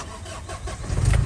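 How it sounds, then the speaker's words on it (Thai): A 2006 Mazda BT-50 pickup engine starts with a short cranking churn, then catches and settles into a loud, rumbling idle close to the listener. "เครื่องฟิตตาติดง่ายนะครับ"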